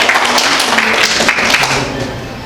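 A crowd at a village children's rights assembly claps loudly and close up to honour a newly elected member. The steady applause eases off slightly toward the end.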